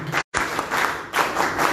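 Audience applause after a call to welcome a provincial leader from Callao at a talk on the social agenda for small businesses, a short burst of dense clapping broken by a brief gap, then rising again, loud and close.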